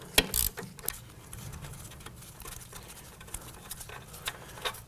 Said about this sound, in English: we're going to use our 19mm socket right here on this big bolt and our regular 3/8 drive ratchet